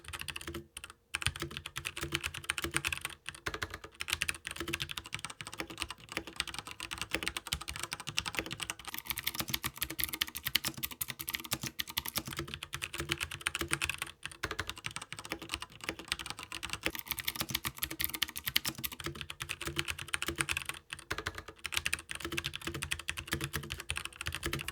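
Fast continuous typing on a Das Keyboard X40 Pro mechanical keyboard with linear Zulu switches, a dense stream of crisp clacks close to the mic, with a few brief pauses.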